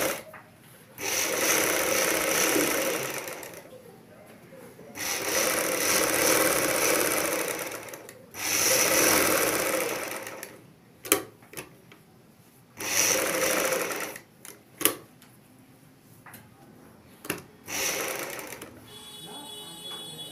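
A sewing machine stitches a front V-neck garment in several steady whirring runs of a few seconds each, separated by short pauses with small clicks and handling noises, close and fairly loud.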